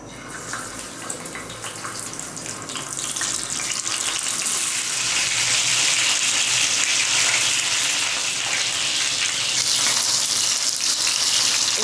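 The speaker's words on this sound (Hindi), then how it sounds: "अब ऑयल गर्म हो चुका है और अब हम इस पे गोश्त डालेंगे।" Minced meat (qeema) sizzling and frying in hot oil on a tawa, a steady close crackle that swells louder partway through and holds, with no talking.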